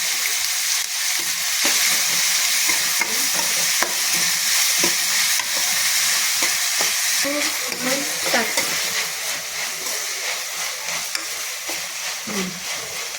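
Onions frying with salt in a pan give off a steady, close sizzle and hiss while being stirred, with scraping stir sounds throughout and brief faint voice fragments.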